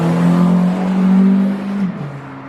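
A race car's engine roars steadily and loudly nearby, then its pitch drops and fades as it passes, heard from inside during a family vacation trip.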